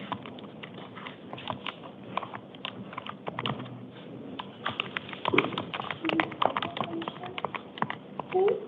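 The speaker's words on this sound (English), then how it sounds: "I'm still typing it." Computer keyboard typing in a courtroom during an initial appearance hearing, a run of quick irregular clicks and taps at close range, with faint voices in the background.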